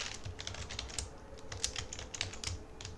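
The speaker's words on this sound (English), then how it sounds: "I just type a password." A password being typed on a computer keyboard: quick, light key clicks in an uneven run, faint and close, with no voices.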